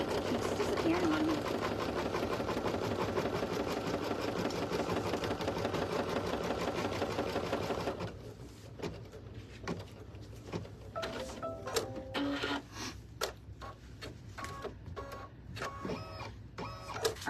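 Embroidery machine stitching an applique placement line for a heart design, a steady rapid mechanical chatter that runs loud for about eight seconds, then gives way to quieter scattered clicks and thumps.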